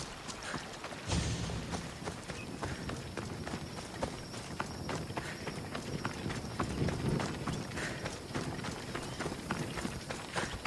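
Galloping horse hooves in Assassin's Creed Odyssey pound out a fast, rhythmic clip-clop that starts abruptly and continues steadily at close range, with light rustling in the background.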